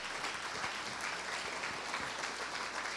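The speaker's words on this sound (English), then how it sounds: "Nice round of applause for them." A banquet crowd at a high school football awards event gives the players and coaches a dense, even round of applause, a continuous wash of many hands clapping without a break.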